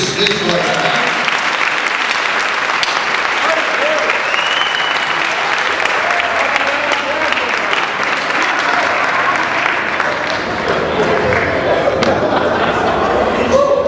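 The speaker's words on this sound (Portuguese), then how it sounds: "Aplauda o Senhor" A Pentecostal church congregation applauds for a long stretch, thick continuous clapping with voices and chatter mixed in.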